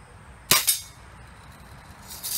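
A Daisy Red Ryder .177 BB gun fires in a backyard: one sharp, close crack, quickly followed by a second smaller snap, then quiet hiss with faint rustling.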